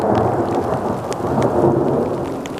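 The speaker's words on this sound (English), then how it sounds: "The rain isn't really showing any signs of letting up." Steady rain pours down on and around a parked SUV at a lakeside campsite during a midsummer storm, a dense continuous hiss with occasional low rumbles of thunder mixed in, heard up close with no voices.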